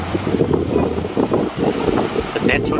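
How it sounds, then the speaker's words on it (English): Wind gusts buffet a wild seaside camp at Koringkorrelbaai, steady rushing roar and blustery microphone buffeting over low rumble, with a person talking over it. "trying to cook in the wind"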